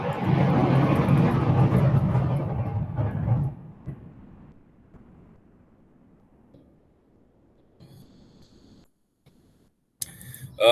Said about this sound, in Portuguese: Deixa eu passar o avião aqui.